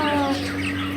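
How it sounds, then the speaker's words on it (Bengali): Live chickens at a market poultry stall, a short burst of clucking over a steady hum of crowd and stall noise, close by and moderately loud, no talking. "এই যে দেখো মুরগি মুরগি মুরগি, এই যে ফ্রেশ মুরগি"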